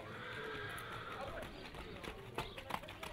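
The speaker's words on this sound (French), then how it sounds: "on va pouvoir trotter maintenant avec ce numéro 1, Étoile d'Arzambouy." A horse trots in the show ring at a 2016 AQPS horse competition in Cercy, with hoofbeats faint under steady crowd and wind noise and a few sharper thuds near the end.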